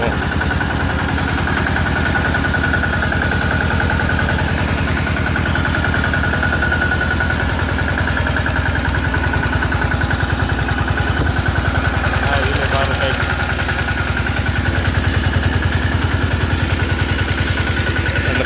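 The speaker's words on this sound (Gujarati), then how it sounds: "મિની ટ્રેક્ટર હાલે છે" A mini tractor engine of about twelve and a half horsepower runs steadily and loudly throughout, a constant chugging drone with some mechanical clatter and no pauses.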